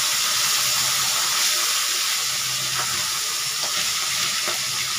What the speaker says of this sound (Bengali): আমি এখন একে একে মাছগুলো দিয়ে ভালো মতো ভেজে নেব।